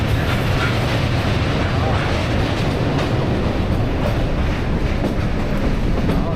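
A metre gauge train runs through Goram Ghat in Rajasthan, a steady loud rumble of wheels and carriages heard from on board, constant throughout with faint rhythmic clatter.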